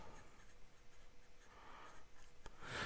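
A BENU Briolette fountain pen with a fine steel nib scratches softly across paper, a faint, close rubbing with brief strokes and pauses and a slightly louder scrape at the end, no voices.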